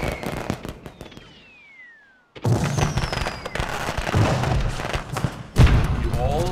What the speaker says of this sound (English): doing a little bit more of the pyrotechnics extravaganza